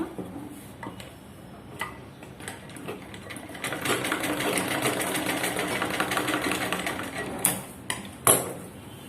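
Sewing machine stitching a small knot stitch on a jacket, running in a steady rapid ticking hum that builds and holds near the middle, then stops with a few closing clacks; close, no speech.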